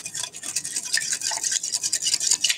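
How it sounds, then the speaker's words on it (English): A whisk beats salad dressing seasoned with pepper in a bowl, producing rapid, steady scraping and sloshing strokes close up. "I'm gonna whisk it."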